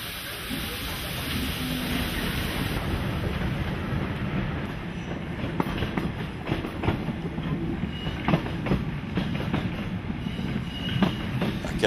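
Steam locomotive running on the Mariembourg–Treignes railway line 132, heard from aboard the train: a steady loud rumble and hiss with rail clatter and occasional sharp wheel clicks, continuous throughout.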